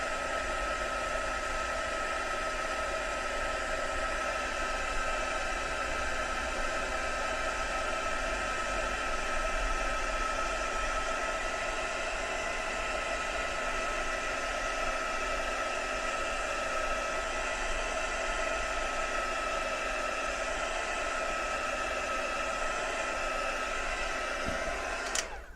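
A heat gun blows steadily to dry a handmade craft piece, a constant loud, even whoosh with a faint motor hum running unbroken for the whole stretch before cutting off abruptly at the end.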